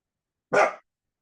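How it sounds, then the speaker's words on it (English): A single short, sharp dog bark, close and loud, surrounded by silence. "what are you barking at?"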